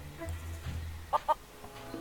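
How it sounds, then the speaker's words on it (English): Feral chicken on Plunder Island in the video game The Curse of Monkey Island gives two short, clear clucks close together over quiet low game ambience. "Plunder Island feral chicken. One of Plunder Island's most common fauna"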